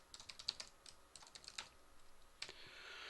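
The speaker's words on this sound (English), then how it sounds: "this is a pain to type" Rapid, uneven keystrokes on a computer keyboard while code is typed, close and fairly quiet, with short pauses between bursts and a softer clatter toward the end.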